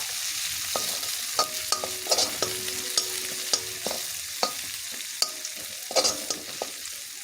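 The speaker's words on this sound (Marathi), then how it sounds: "कमी गॅसवरती मसाला फ्राय करून घ्यायचा व्यवस्थित" Masala with ginger-garlic paste sizzles and fries in a pan over low heat, with a spoon repeatedly scraping and clinking against the pan in irregular strokes over a constant hiss.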